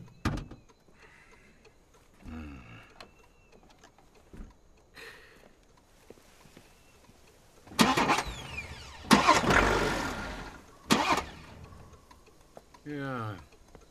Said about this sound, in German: Ja, es ist wohl der Anlasser.